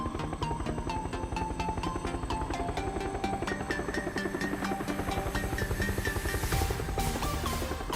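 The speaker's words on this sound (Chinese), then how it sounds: "直升机继续往前飞。" A helicopter flies in PUBG on the Paramo map, its steady chopping rotor drone running continuously beneath loud background music.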